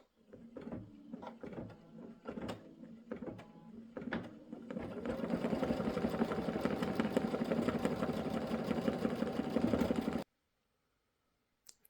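An embroidery machine stitches applique fabric down, starting with short bursts of rapid needle chatter and then settling into a steady, fast mechanical whir until it stops abruptly.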